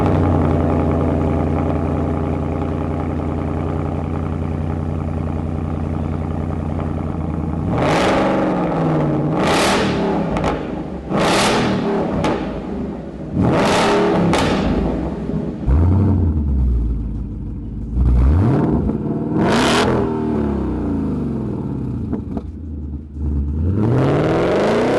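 A 2018-or-later Mustang GT with a Roush axle-back exhaust idles with a deep, steady burble, then snaps through a string of sharp revs that rise and fall, loud and close, with no talking.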